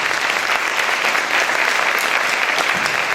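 A crowd at the Cantateo 2019 event claps loudly and continuously, a thick, steady wash of applause with a few sharper claps standing out and no speech over it.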